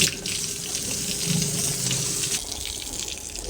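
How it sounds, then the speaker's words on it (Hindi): Water gushes steadily from a hose pipe onto the floor of a duck yard during cleaning, a continuous close splashing rush with a faint low murmur underneath. "इधर पानी मार देता हूँ ताकि ताज़ी की ताज़ी जो है ना ये साफ हो जाए।"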